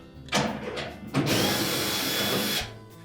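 Power drill whirring in bursts while backing screws out of the bulkhead of a Whirlpool dryer during blower wheel repair, with a short spin followed by a longer, steady loud run that stops abruptly.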